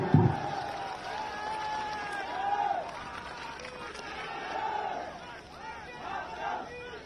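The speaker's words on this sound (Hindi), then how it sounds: "एक बार हाथ उठाकर ताली बजा दीजिए" A crowd at a political rally in Baldev with the defence minister present breaks into clapping and cheering, a dense, moderately loud wash of applause and voices that rises and falls throughout.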